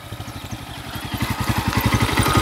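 Motorcycle engine running close by, a loud, rapid pulsing putter that grows steadily louder and more insistent as it revs, with no voices.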